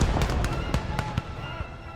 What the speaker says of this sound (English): the sounds of wounded and dying men are only covered by the constant cannon and volley fire